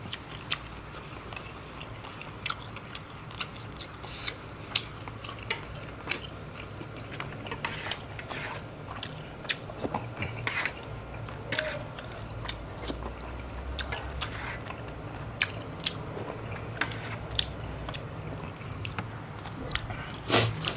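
Someone chews crunchy fish bones from a Thai fish curry up close, with irregular crisp bites and crunches over a low room hum, no talking.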